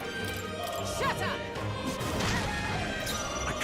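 Shatter skill attack effect in the game Metaphor: a loud smashing crash with whacking impacts that sustains for the whole stretch amid layered battle effects, with a voice briefly heard underneath.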